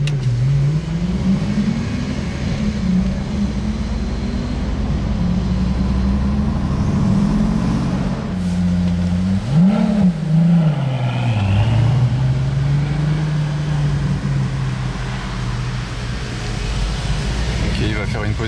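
A Pagani Utopia supercar on a Monaco street gives a steady low engine rumble that swells briefly midway, heard from nearby among general street noise.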